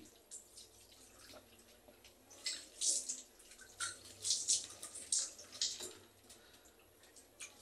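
Water splashing intermittently as hands cup and pour it over the face during wudu washing, with a series of soft, close splashes and drips repeating through the middle and later part.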